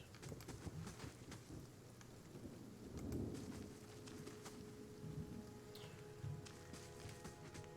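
Rainfall in the video game Pillars of Eternity, a steady wash of rain with low rumbling thunder-like swells, mixed with in-game ambience and music at a moderate, even level throughout.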